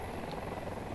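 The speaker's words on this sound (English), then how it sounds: "There's another helicopter." A helicopter in the video game Battlefield 2042 gives a continuous, fairly loud rotor rumble for a brief moment, steady and unbroken.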